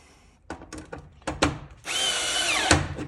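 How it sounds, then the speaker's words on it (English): A few short taps and clatters, then a power drill whirs steadily for about a second while tightening a screw in a breaker box, its pitch dropping as the screw seats, ending in a sharp knock. "We'll take our drill."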